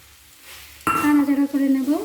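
Boiled potatoes hit a pan of spiced oil with a sudden loud sizzle that stays strong and hissing, with a tonal ringing scrape as they are stirred, after a quiet start.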